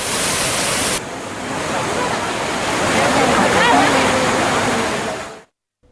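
Hogenakkal waterfalls roar as a loud, continuous rushing wash of falling water where crowds of tourists come to bathe, steady and close throughout before cutting off at the end.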